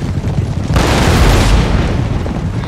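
Deep, rolling artillery booms from a Total War: Napoleon battle, a loud broadband blast swelling about a second in and rumbling on heavily to the end, with no talk over it.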